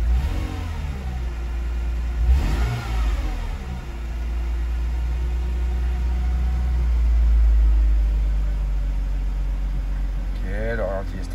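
A Mercedes CLK 320 engine idles steadily after a cold start, its low, even hum holding close and constant throughout, while someone speaks briefly over it at a few points.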